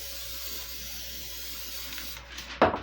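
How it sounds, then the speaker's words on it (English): Cooking spray hisses briefly from an aerosol can onto a baking pan in a home kitchen, a short burst near the end after a steady quiet room tone. "I want to spray my pan."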